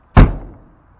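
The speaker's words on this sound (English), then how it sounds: "So go ahead and get a nice grip and give it a slam." A single solid slam of the entry door on a Coachmen Leprechaun 230CB RV, a sharp close thud that decays quickly into a short low resonance, with nothing else around it.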